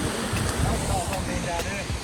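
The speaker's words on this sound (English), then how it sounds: "This is the second waterfall of the day." A waterfall on Langkawi island gives a continuous wash of falling water mixed with wind buffeting the microphone, fairly loud and close, with a few brief knocks and faint voices in the background.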